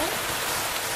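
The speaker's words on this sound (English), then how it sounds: "Rain. Lots of it. Like tornado weather rain." Heavy storm rain pours down in a dense, steady hiss, loud and continuous, like tornado-weather downpour during a thunderstorm.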